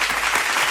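A short burst of applause, a dense even wash of many hands clapping at constant loudness throughout.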